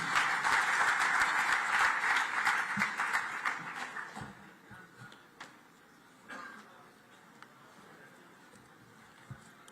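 Applause from a large audience at a Rajasthani diaspora conference in a hotel in Surat, loud and dense at first and then thinning into scattered claps that fade toward the end.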